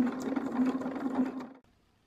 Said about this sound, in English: then sew these pieces on to give it a really nice finish